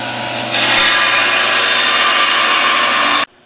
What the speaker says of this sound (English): Today I'm using a 14-inch bandsaw to cut out the limbs.